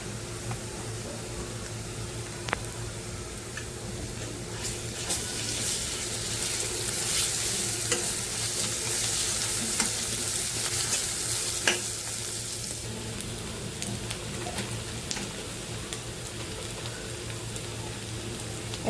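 Golden fried onion sizzles in oil with ginger, garlic and green chili paste, making a continuous close crackle that swells in the middle, with occasional spoon taps and stirring scrapes and no talking.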